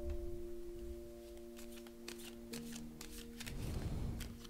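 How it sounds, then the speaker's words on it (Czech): Tarot cards are shuffled and drawn in a quiet room, giving a run of soft, crisp riffling snaps that builds to a brief, denser flurry at the end, with a low steady hum underneath. "Pojďme vytáhnout nejdřív kartu z tarotu pana Rohlíčka."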